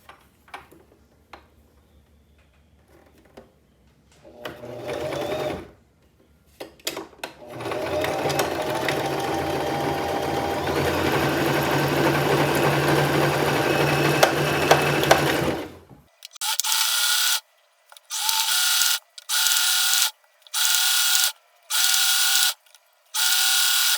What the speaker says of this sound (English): I'll sew this edge first.